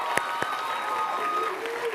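A crowd at a student competition awards ceremony claps and cheers as a name is announced, a soft sustained applause with a couple of sharp single claps near the start.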